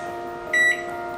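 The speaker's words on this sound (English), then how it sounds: "Set the timer for 10 minutes" A microwave oven beeps once as its timer is set for steaming salmon, a short clear electronic tone standing out over a steady low hum in a quiet kitchen.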